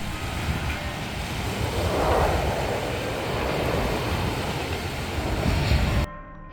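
Steady broadband roar of a jet airliner passing low overhead on landing approach near an airport in Cyprus, swelling and fading slightly over several seconds, with wind noise and no voices.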